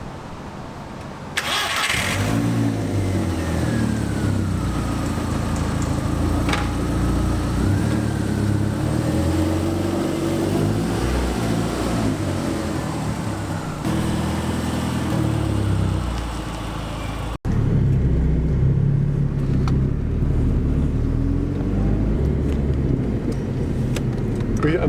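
A mk4 VW car with new rear suspension bushings starts up and drives, its engine humming steadily and close with rising and falling revs, then a louder, rougher stretch near the end.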